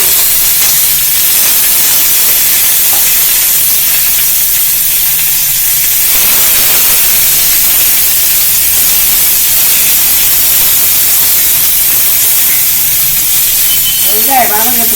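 Curry leaves, chopped onion and a green chili sizzle in a hot pan with oil, a steady loud hiss of frying that holds throughout, with a brief clatter near the end.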